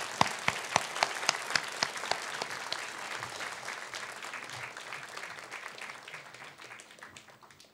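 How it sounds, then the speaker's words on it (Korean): A church congregation applauds at a Christmas service. Distinct sharp claps come first, then swell into a sustained round of applause that slowly fades out. "우리 하나님께 영광의 박수 다시 한번 크게 올려드리겠습니다."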